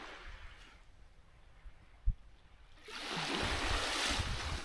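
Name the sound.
sea waves at the beach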